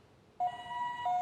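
An ambulance warning tone, heard after a liquid ammonia explosion at an electronics company in Toufen, Miaoli, starts abruptly after a quiet moment. It holds a steady, fairly faint electronic pitch that pulses briefly near the end.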